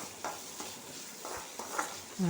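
Vegetables sautéing in a pan sizzle softly and steadily, broken by several scraping stirs of a spoon, close by and fairly quiet.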